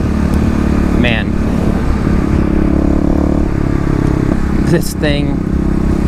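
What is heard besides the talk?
Kawasaki KLX351 EFI dirt bike riding on gravel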